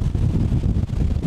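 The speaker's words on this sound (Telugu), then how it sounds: "విండ్ చాలా ఎక్కువ ఉంది కదా" Strong wind blows at Shamirpet lake, a loud, rough, low-pitched rumble buffeting the microphone without pause for a brief moment.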